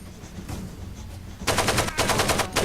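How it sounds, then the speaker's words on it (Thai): An AK rifle in Far Cry 2 fires a loud burst of rapid shots, preceded by quieter distant gunfire and ambience, the close automatic fire cutting off into short repeated pulses. "ยิงเป็นชุดชุด แล้วก็หยุดแต่ย้ำๆ"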